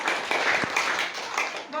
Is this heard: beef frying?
no